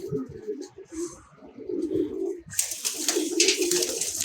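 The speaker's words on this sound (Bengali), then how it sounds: "এটা হলো আমার কবুতর আর এটা হলো বাহিরের কবুতর" Pigeons, a kept bird alongside an outside one, coo softly and intermittently with bird calls, followed by a louder burst of brighter rustling noise partway through.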